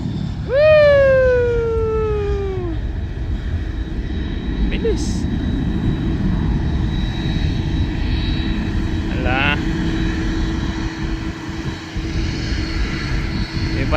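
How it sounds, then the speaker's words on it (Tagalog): A fixed-wing airliner takes off at Sydney airport, a loud, steady engine roar with rising and falling whining tones that carries through the clip, while nearby voices talk and cheer. "Guys, look at the airplane."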